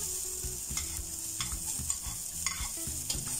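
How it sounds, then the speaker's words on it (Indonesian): Garlic and shallots sauté in oil in a wok, a soft sizzle broken by rhythmic stirring scrapes and light clatters, with a low musical backing underneath. "kita tumis bawang putih dan bawang merah sampai harum"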